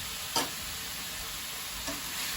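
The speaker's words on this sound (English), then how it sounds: "And then we are going to just toss this around and get the spice a-flowing." Steak seasoned with pepper, onion powder and garlic powder, tossed in a pan for a Philly cheesesteak casserole: a steady sizzle with two light utensil scrapes, and no talking.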